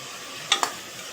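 Ingredients for a vegetable biryani are sautéed in a pan, a soft steady sizzle interrupted by two quick scraping stir strokes close together, near and short.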